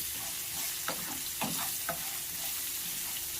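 Boiled groundnuts being stirred in a pan for a festival prasadam, a soft sizzle beneath three or four distinct scraping strokes of a spoon, close and unaccompanied by speech.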